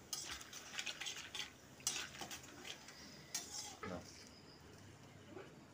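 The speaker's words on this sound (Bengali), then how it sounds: "আমি বাদাম গুঁড়ো এবার ভেজে নেব একটু লাল লাল করে।" Ground peanuts frying in a pan until reddish: quiet scraping and stirring with spoon-on-pan clinks over a faint sizzle, in irregular bursts.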